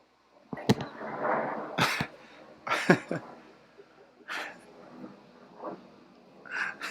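A person sneezes during an online math tutoring session, with several short bursts of breath and voice spaced across the few seconds, fairly close and clear against a quiet room.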